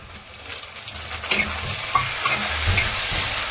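Tomatoes go into browned onions frying in a pan for chana dal sabzi, and a close, steady sizzle swells as they are stirred through, with soft scraping strokes.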